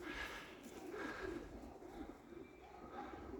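Pigeons give soft, repeated throaty coos, faint and close, in a quiet pigeon-keeping setting with a low background hum.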